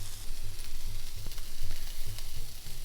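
Weenies frying in a pan, a dense continuous sizzle heard close up, with faint scraping touches and no talk.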